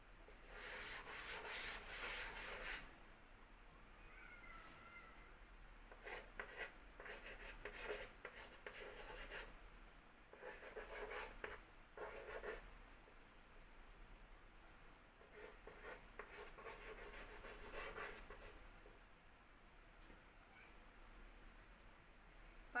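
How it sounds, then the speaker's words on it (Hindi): Scratchy bursts of a marker or chalk writing on a classroom board, several short strokes with pauses between, quiet and close in a still room, no talk. "चलिए हम लोग इसको बोर्ड पे लिख लेते हैं।"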